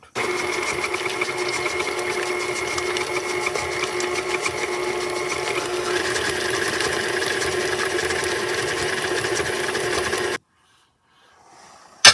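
Electric mixer beating sugar cookie dough ingredients, a steady close motor whir with a slight pitch shift partway through, running continuously for about ten seconds before cutting off.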